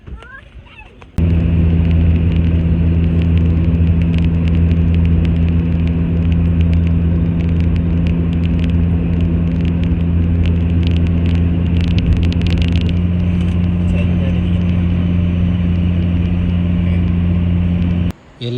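A family car on a long road trip cruises with a steady, loud engine and road drone from inside the cabin, starting abruptly after a second and continuing unbroken until it cuts off near the end.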